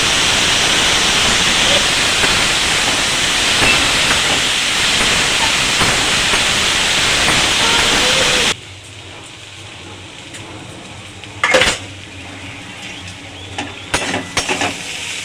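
Sweet potato and mango frying in a pan for chutney, heard as a loud, steady sizzling hiss that cuts off abruptly partway through, leaving quieter room sound with a few faint clatters.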